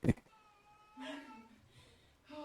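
A cat being bathed gives out two strained, tonal meows, one near the start of the second second and another at the end, after a sharp thump at the opening; low voices sit faintly underneath.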